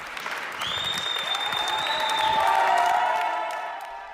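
Steady outdoor applause from hospital staff lining a road outside London's NHS Nightingale hospital, continuous clapping with a few whistles and cheers rising over it, heard from a short distance.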